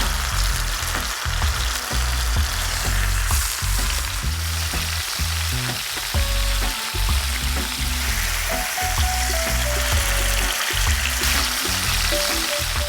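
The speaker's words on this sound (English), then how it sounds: "When the oil is almost at smoking point, that's when the mushroom goes in, and I'll use my heavy cast iron press to push and squeeze" A mushroom sizzles loudly in oil near smoking point in a hot cast iron pan, pressed flat under a heavy cast iron press, a dense continuous crackle and hiss with no one talking.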